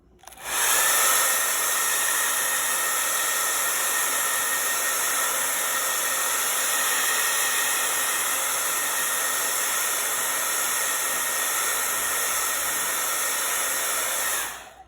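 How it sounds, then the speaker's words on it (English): A handheld blow dryer switches on and blows with a loud, steady whooshing roar close by, holding constant before cutting off at the end. "I'm gonna turn on my blow dryer, so hang on, it's gonna be loud."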